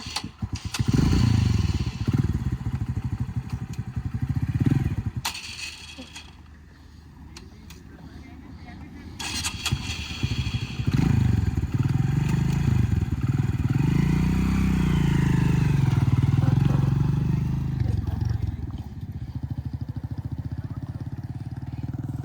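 A motorcycle carrying a passenger during training rides past, its engine droning and revving in waves, loud and close with a dip midway, and a voice talking over it at times.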